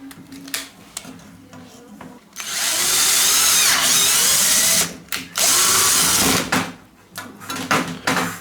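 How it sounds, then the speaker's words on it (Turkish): A power drill bores screw holes into a shower cabin frame, whirring loudly in two long bursts, each several seconds long, separated by short pauses and followed by quieter clicks and handling. "Vida yuvalarını açtık."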